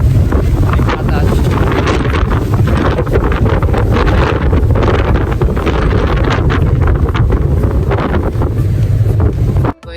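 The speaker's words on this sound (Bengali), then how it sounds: "অনেক বাতাস।" Strong wind roars across the deck of a ship at sea in the rain, a constant loud rush and buffeting on the microphone that runs unbroken for the whole stretch, with waves beneath.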